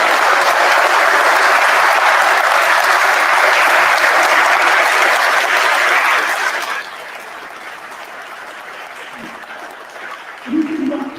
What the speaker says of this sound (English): If you just give the panel a round of applause